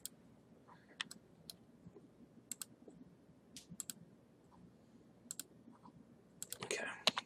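Sharp mouse clicks sound in small irregular bursts at a computer while a 3D mesh is cut point to point; the clicks are close and fairly quiet against a faint room hum, and a denser flurry of clicks closes the run.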